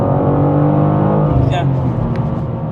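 A BMW G87 M2 with a manual gearbox revs its engine in a loud, close, steady drone that swells briefly and then settles.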